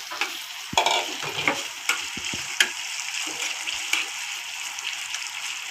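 Beef tripe frying in oil in a covered home pan, a steady bright sizzle broken by frequent stirring clatters and occasional sharp spits, close and alone.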